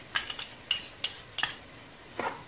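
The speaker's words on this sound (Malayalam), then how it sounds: "ഇനി തൈര് ചേർത്തൊന്ന് ഇളക്കുക." A spoon stirs yogurt into rava pulao in a pot, giving a few sharp metallic scrapes and clinks at uneven intervals over a quiet background.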